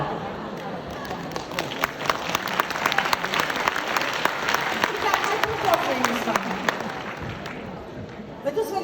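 Audience applause at a business talk, a dense continuous patter of many hands clapping that holds steady for several seconds and fades toward the end.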